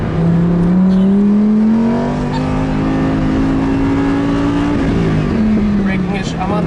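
Lamborghini Huracán LP610 engine at full throttle on the Lime Rock Park circuit, a loud rising tone that climbs steadily, dips briefly as a gear changes, then pulls again, with people talking over it inside the car.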